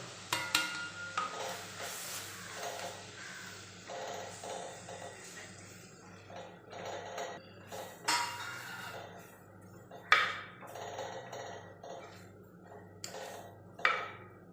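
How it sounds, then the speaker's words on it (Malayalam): A spoon stirs chicken curry masala with Kashmiri and hot chilli powder in a pan, giving repeated scraping strokes and soft sizzling, with a few sharper clinks against the pan and a steady low hum underneath. "നമുക്ക് പൊടിയുടെ പച്ചമണം പോണ വരെ ഒന്ന് ഇളക്കി കൊടുക്കുക"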